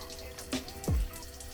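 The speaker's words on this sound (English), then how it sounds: "Dripping." Liquid drips from the engine of a turbocharged BMW E36 with a blown head gasket at cylinder 3, making a few close, soft wet drops and a short watery fall with no talk.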